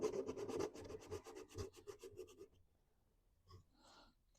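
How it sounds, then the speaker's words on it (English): Hand sanding of a wooden overhang on the trim of a bench planter, a series of quick scratchy rubbing strokes up close that slow and fade into quiet, faint overall. "I'm just going to sand that off"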